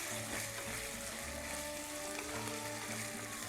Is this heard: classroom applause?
no